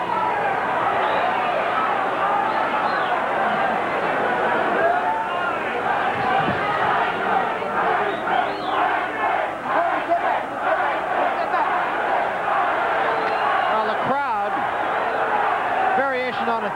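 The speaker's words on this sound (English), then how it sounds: "Well, they are yelling Tyson, Tyson." A boxing crowd at a 1987 Mike Tyson versus James "Bonecrusher" Smith heavyweight title bout roars and chants rhythmically, a loud, dense mass of voices heard under a commentator talking.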